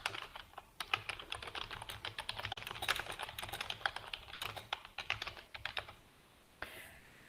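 Rapid, uneven keystrokes on a computer keyboard while a heading is typed into a document, a steady close-up run of clicks that stops near the end, with one last faint tap after a pause.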